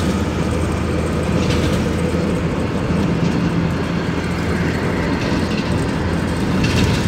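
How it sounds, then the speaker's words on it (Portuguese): A train passes at São Gabriel station in Belo Horizonte, making a loud, continuous rumbling roar with faint rhythmic rail clatter, heard steadily throughout without speech. "Olha aí o trem, trenzão aí do Belo Horizonte."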